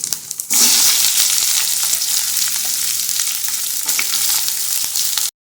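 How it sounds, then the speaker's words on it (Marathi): Grated coconut frying in a pan as ginger, garlic and onion go in, a sudden loud hiss that becomes a steady close sizzle with light stirring scrapes, then cuts off abruptly. "खोबरं आता जरा परतलंय तर आपण घालूया आलं लसूण आणि कांदा"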